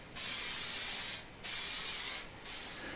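Lacquer sprayed from an aerosol can onto a dirt jump bike frame: three close, steady hissing bursts of about a second each, separated by brief pauses.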